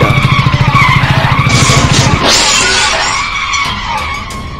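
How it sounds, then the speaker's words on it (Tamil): A motorbike brakes hard and skids on a highway, a rhythmic engine pulse giving way to a loud, drawn-out tire screech that fades as it slows. "பைக்கை பிரேக் கொடுத்து நிறுத்திட்டான்"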